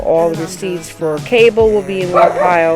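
A dog barks and yips in short bursts close by, mixed in with a person talking over it.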